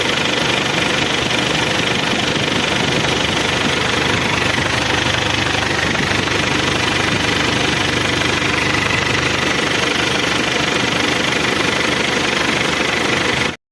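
A 1997 Isuzu Hilander engine idles steadily after a tune-up, a loud, continuous rumble with a faint knocking texture that runs unbroken for the whole stretch with no talk.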